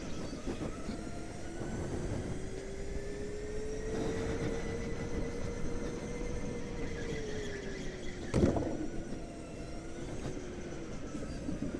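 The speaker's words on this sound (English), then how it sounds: "Oh, these tires are sliding" Go-kart tires slide and squeal on a track, a sustained thin wavering squeal riding over the loud steady drone of a kart engine, with a brief sharper clatter near the end.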